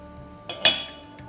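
A spoon clinks lightly against a pan of sugar syrup as it is stirred, a couple of short, close metallic taps with a brief ring, then quiet.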